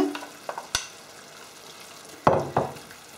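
Softened peppers and tomatoes sizzle in a pot for a spicy pepper soup, with a few sharp scraping stirs and clinks standing out over a soft, steady fry.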